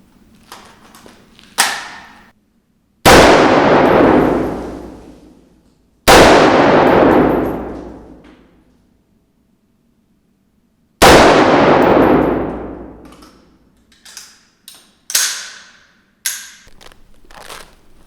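.223 rifle rounds, 55-grain full metal jacket, fired at captured 6B48 Ratnik body armor: three loud, sharp outdoor shots spaced several seconds apart, each ringing out and decaying, with smaller clanks and handling noises in between.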